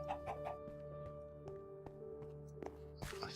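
Chickens on a chicken farm in a video game cluck softly in short repeated calls over a faint background hum, quiet and brief with no talking.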